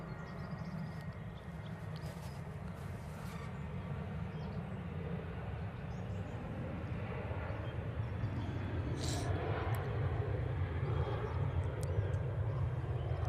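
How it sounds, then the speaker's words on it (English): Ryanair airliner on its takeoff roll at Manchester Airport, a continuous distant engine roar that builds gradually in loudness, steady and broadband with no voices. "Ryanair on the roll."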